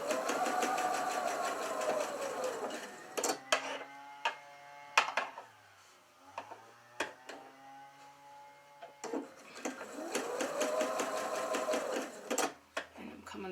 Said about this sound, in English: I just want to put a couple back stitches on it just to kind of lock it in place